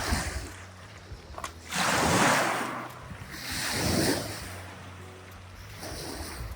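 Waves wash onto a black pebble stone beach along a Patagonian trail. Two swelling surges of surf rush in and drain back over the stones, with a steady wind-like hiss between them.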